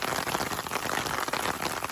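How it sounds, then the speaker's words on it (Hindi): Heavy rain pours down in Murree, Pakistan, producing a constant, even hiss of falling drops without voices. "ये देखिए ये बहुत तेज़ बारिश हो रही है इस वक्त यहाँ पे"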